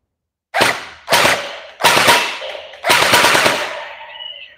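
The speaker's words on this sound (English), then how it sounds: "when the gel balls hit the target, there will be big sounds" Four sharp bursts of rapid fire from a JM Gen8 M4 gel blaster, with gel balls smacking a target. Each burst is a loud rattling volley, the last one longest, with short silences between and no talk.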